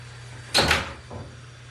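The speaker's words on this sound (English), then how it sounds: "I'm just closing my door." A door swings and closes nearby with a scraping whoosh, then a softer thud a moment later, over a low steady background hum.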